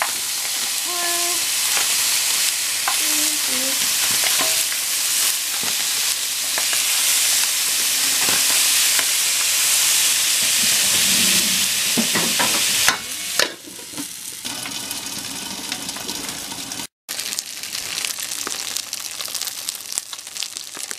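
Frozen food fries in a dry pot with no oil, giving a loud, steady sizzle with stirring scrapes and clatter throughout; a voice speaks briefly near the end.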